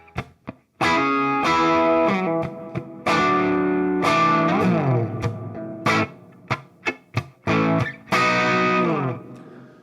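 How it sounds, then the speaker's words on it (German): An electric guitar with P90 and humbucker pickups plays through a Falken1 JamKing amp modeler with a dynamic swell reverb, giving distorted chords and single stabs in bursts, some swelling and decaying, with short silent gaps between phrases. "ihr hört schon, da ist ein sehr dynamischer Hall drauf. Das ist der Swell-Hall."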